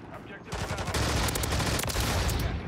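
Rapid AMR9 gunfire in Call of Duty MW3 ranked play, a dense sustained burst of shots with explosive blasts mixed in, loud and continuous for the whole stretch.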